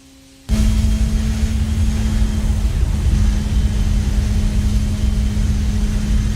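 A Radical race car in the iRacing sim at Suzuka roars loud and close with a steady high drone, its engine note holding fairly constant after an abrupt start, with only slight throttle variations.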